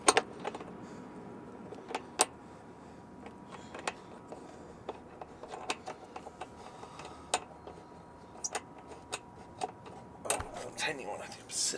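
Two small 10mm bolts go back into the bumper of a 2019 Jeep Wrangler Rubicon, heard as scattered metallic ticks, clicks and light rattles from hand tools and hardware, close and intermittent, with a person talking at times.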